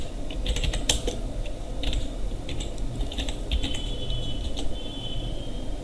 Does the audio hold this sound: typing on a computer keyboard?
yes